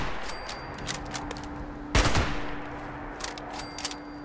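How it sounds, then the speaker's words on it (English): A gunfire burst in Fallout 76 at about two seconds, loud and close, over a faint ambient game background with a steady hum and scattered small clicks before and after. "Should have reloaded before I started shooting."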